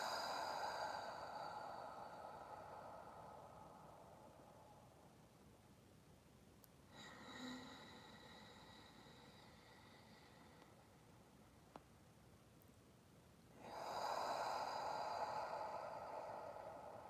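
A slow, deep breath in, then a long exhale, soft and close with airy hissing textures and a quiet pause between them.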